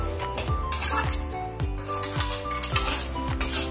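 Chicken keema and cabbage stirred in a pan after garam masala goes in, a metal spoon scraping and clinking against the pan in a steady rhythm of about one stroke every half second, with a faint sizzle underneath.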